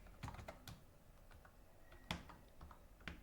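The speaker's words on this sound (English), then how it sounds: "I'm trying to type faster, my keyboard is kind of hard" Fast typing on a stiff computer keyboard: irregular clusters of faint clicking keystrokes with a few sharper, louder key presses standing out, with no voices.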